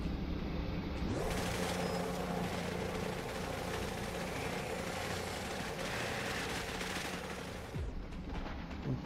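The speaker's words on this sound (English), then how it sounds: "The chopper is on its way back" A helicopter in the Cepheus Protocol strategy game, its rotor and engine droning steadily for several seconds under bursts of game gunfire, the steady whir starting and stopping sharply.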